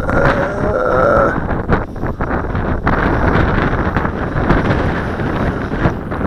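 Strong, continuous wind buffets the microphone during a gusty outdoor flight of a Xinxun X50 drone, a loud roar with rough bursts and no clear talk.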